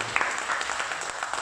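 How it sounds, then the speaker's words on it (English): Applause from an audience in a London lounge at a night event, a dense, steady patter of clapping that stays fairly even throughout without voices over it. "A round of applause for him."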